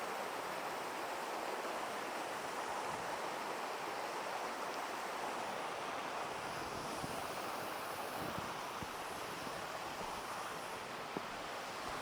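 Reselets Waterfall pours in a steady, dense broadband rush that stays close and continuous throughout, with faint wind buffeting the microphone and no voices.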